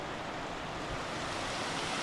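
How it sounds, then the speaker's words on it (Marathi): Steady, dense rain falls in record-breaking rainfall, with a constant broadband hiss, no breaks, gusts, wind or lightning, and nobody speaks. "आज शांत पाऊस चालू आहे वारं नाही विजा नाही"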